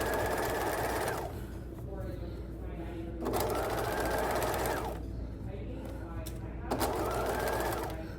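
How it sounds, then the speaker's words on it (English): Sewing machine stitching in the ditch on a quilt's continuous lap binding, three steady bursts of close, loud motor whir with short pauses between them while pins are pulled out. "So stitching in the ditch, pulling threads out or my pins out as I go."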